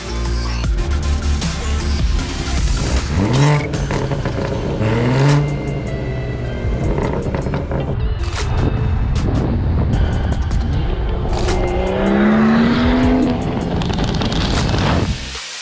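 A BMW 340i drives and accelerates, its engine rising and falling through several pulls and gear changes under a loud, close cabin roar, with faint clicks scattered throughout.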